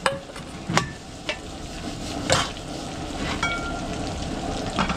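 Garlic and onion sauteing in butter for a catered meal, a steady low sizzle with occasional sharp clinks and scrapes of a utensil stirring the pan, close and continuous without talk.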